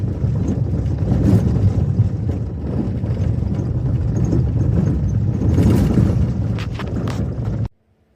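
Off-road vehicle driving along a bumpy dirt trail outside Las Vegas, producing a loud, continuous engine rumble with wind buffeting and jolts, cutting off abruptly at the end.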